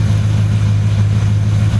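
A car engine idles steadily with a low, even hum and faint rumble, no voices present.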